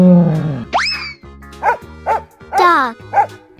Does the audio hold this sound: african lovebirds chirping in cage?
no